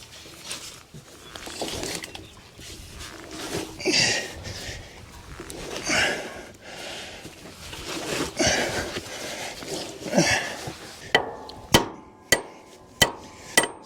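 Hammer pounding worn lug studs out of an irrigation pivot wheel hub on a ranch, with scuffling and handling at first and then a run of sharp, evenly spaced metallic blows, close and loud.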